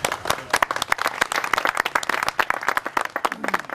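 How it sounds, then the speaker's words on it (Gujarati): An audience at a farewell party applauds as a guest is honoured with a garland, a lively burst of many hands clapping in a dense, uneven patter that continues throughout. "આપણે સૌ તાળીઓથી વધાવશું."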